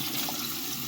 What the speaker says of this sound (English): So I got this over in my bathroom sink. And of course the water is flowing fast